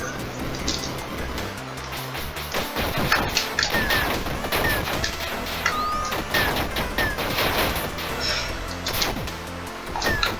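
An explosion spell in the game Putrid Shot Ultra goes off again and again, producing a dense run of crashing blasts and sharp impacts under busy game effects, loud and continuous throughout.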